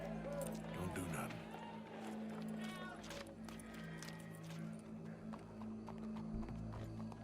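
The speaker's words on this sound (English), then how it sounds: "Go brush that horse, officer." Horse hooves clip-clopping in the video game Red Dead Redemption 2, a steady hoofbeat rhythm running under game music and people talking throughout.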